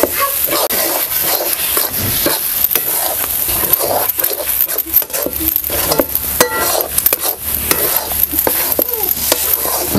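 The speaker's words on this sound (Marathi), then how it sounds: "कंटिन्यू असं हलवत आहे ना आपल्याला हे चांगलंसं शिजवून घ्यायचं." A potato and gram flour mixture stirred continuously in a pan, giving loud, steady scraping and stirring with a dense sizzling hiss throughout, close up with no speech.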